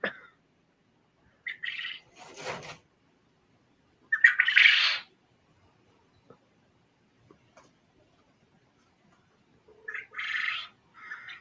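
A quail perched on a sandbox gives short, sharp calls in a few separate bursts with long quiet gaps between them, clear and fairly close in an otherwise silent yard.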